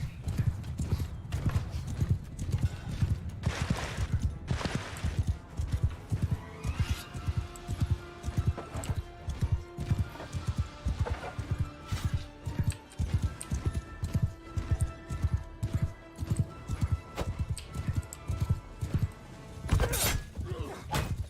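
Rapid, rhythmic hoofbeats of galloping horses in the video game Mount and Blade II: Bannerlord pound close by, with a whinny and clashing thuds and cracks of battle mixed in.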